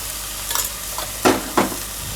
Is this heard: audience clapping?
no